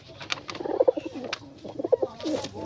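A crossbred breeder pigeon coos in soft, repeated throaty bursts, close by and fairly quiet, with faint chirps from other birds around it.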